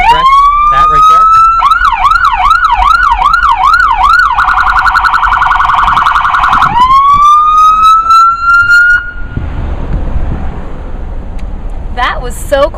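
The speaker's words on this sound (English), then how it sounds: "if you flick it back to pursuit and the siren goes on" A police car siren is switched into pursuit mode: a loud, close wail rising, then a rapid yelp cycling, then a steady high tone before winding down, with a person talking briefly near the end.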